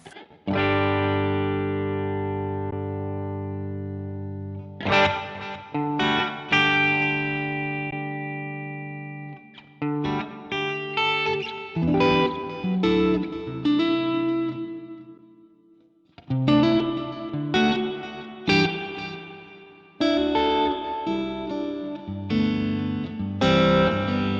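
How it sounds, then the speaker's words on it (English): Distorted electric guitar chords ringing out through a Boss ME-90 amp with a roomy reverb tail, played in separate strummed phrases with decaying sustain between them. "We've got a reverb switch over here, and see the reverb we've got room."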